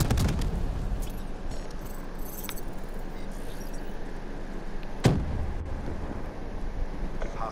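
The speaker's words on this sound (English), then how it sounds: "Hostile lightning strike inbound." A lightning strike in the shooter game Call of Duty: Black Ops III: a steady, windy storm rumble with one sharp, loud crack partway through, and no voices.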